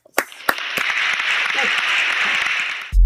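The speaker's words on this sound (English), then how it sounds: "let's give this cat a round of applause" Applause closing S-Dawg's economics learning show: a burst of clapping that swells into a steady sustained wash for a few seconds, then cuts off abruptly.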